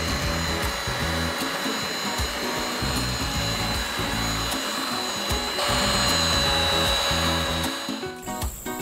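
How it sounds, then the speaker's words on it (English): Steady whirring drone of a power sander running continuously at close range on wood in a yurt bedroom, with a slight shift in pitch near the end. "the last part of this whole project was sanding the wood"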